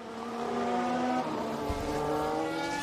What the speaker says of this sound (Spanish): ahora Hamilton pilla el coche y a continuar. ¡Hamilton, sal ahí!